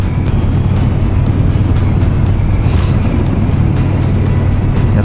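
Steady loud motorcycle engine rumble with heavy wind buffeting, riding at a constant cruising speed along a cherry-tree-lined riverside road, no talking.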